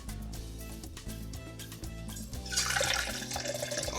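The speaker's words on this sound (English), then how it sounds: "We're going to go ahead and pour this." Hot coffee pours from a Jetboil coffee press at a motorcycle campsite, a steady liquid stream that swells and splashes more brightly toward the end, over a low hum.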